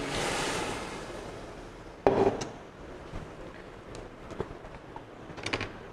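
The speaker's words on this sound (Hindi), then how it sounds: "और अब जो हमारा यखनी वाला पानी था वो डाल देंगे इसमें।" Yakhni stock water is poured into a pot of rice for chicken pulao, a broad rushing pour at the start followed by a clunk and a few light knocks and taps of the pot.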